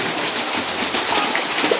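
Steady rain pours down outdoors, a dense, continuous hiss of drops hitting surfaces close by, loud and unbroken with scattered heavier splashes, and no one speaking.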